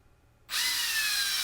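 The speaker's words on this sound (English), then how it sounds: "now I'm going to have to drill a hole in it to make the new switch fit in it." A power drill bores a hole into an old plastic switch knob, a sudden high whining buzz that starts after a brief silence and holds steady, close and loud.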